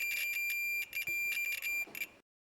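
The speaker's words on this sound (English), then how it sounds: "The white wire provides a constant beep." A handheld continuity tester sounds a steady high-pitched electronic beep while its probe touches the white wire of a plug cord, holding briefly, cutting out for moments, then resuming before stopping abruptly.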